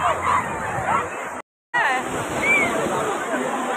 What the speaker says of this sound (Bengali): ঢেউগুলো আসছে